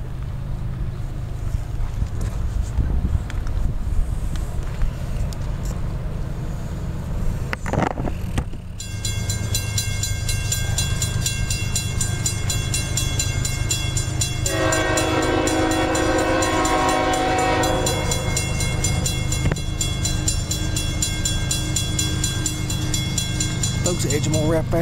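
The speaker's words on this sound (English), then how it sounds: "we got CSX train Q 583 coming northbound CSX Monroe Side Division" A CSX freight train led by locomotive 3035 rumbles northbound past at close range at Edgemoor, South Carolina, its loud horn sounding in long sustained chords, with steady rolling wheel noise throughout.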